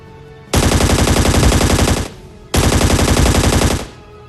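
Two long bursts of rapid automatic gunfire in the video game ScarFall 2.0, loud and close, each lasting about one and a half seconds with a short pause between.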